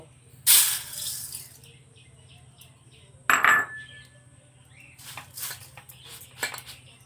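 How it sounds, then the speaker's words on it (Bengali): Dry rice poured into a cooking pot, heard as two sharp, bright rattling pours followed by softer grainy shuffling, close and distinct against a quiet low hum. "প্রথমে একটা পাত্র নিয়ে নিচ্ছি সেই পাত্রের মধ্যে চালটা নিয়ে নেব"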